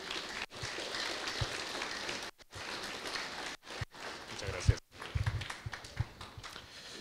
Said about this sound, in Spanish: Fuertes aplausos, por favor, por su exposición